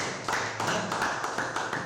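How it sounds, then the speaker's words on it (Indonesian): A group claps in a steady, rhythmic beat at a grade six school assessment event in Indonesia, the even bursts of hand claps repeating close and clear with little talk. "Beri tepuk tangan."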